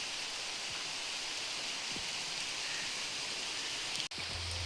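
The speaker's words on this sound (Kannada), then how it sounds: "ಇವಾಗ ಮಳೆ ಬರ್ತಾ ಇದೆ, ಚೆನ್ನಾಗಿ ಕಾಣುತ್ತೆ." Steady rain falls over a village lake in the early morning, a dense, even hiss of drops filling the whole stretch with no speech and only a brief thump near the end.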